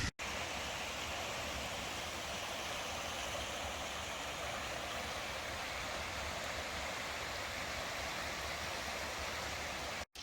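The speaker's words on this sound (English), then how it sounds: "Beautiful place right here by a creek." Steady broadband rush of a creek flowing beside a forest campsite in Frozen Head State Park, a constant, even hiss and murmur with no talk, cut off abruptly at both ends.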